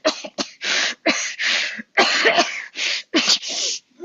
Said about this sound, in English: She promptly dissolves into a coughing fit for about 20 seconds.